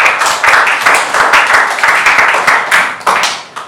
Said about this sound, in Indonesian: Tepuk tangan untuk Saskia